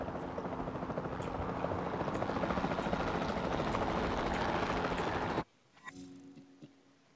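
A capture team helicopter in Jurassic World Evolution 2 drones loudly and steadily for about five seconds, then cuts off abruptly, leaving faint ticking game sounds.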